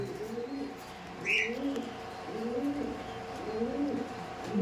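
A racing pigeon at a pigeon market coos in a low, rolling, repeated rhythm, four or five close phrases in a row, with a brief higher chirp once in the background.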